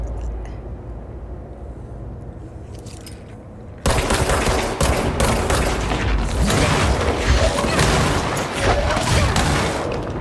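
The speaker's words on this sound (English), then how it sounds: "Everything's exploding here and weird and gross" Explosions in the video game Control come first as faint scattered pops. They then burst into a dense, loud barrage of booms and crackling blasts that lasts several seconds.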